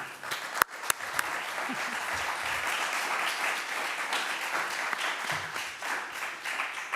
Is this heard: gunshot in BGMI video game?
no